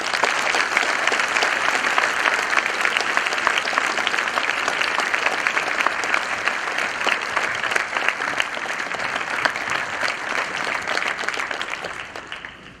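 A school assembly audience at a Veterans Day event claps steadily and densely for a guest speaker, a sustained, fairly loud wash of applause that holds for about twelve seconds before tapering off at the end.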